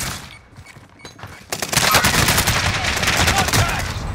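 Rapid gunfire rings out in the Warzone video game on Fortune's Keep. A few sparse shots lead into a dense, loud burst of automatic fire that carries on without a break.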